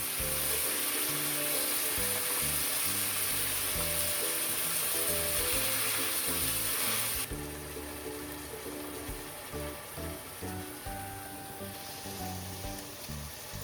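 A fine paste of onion, garlic and green chili poured into hot oil while cooking jackfruit with prawns, giving a loud, dense sizzle that drops to a quieter, steady frying crackle partway through.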